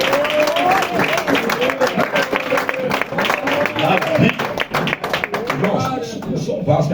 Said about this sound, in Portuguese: Pode assentar e aplaudir com as suas melhores palmas que lhe merecem.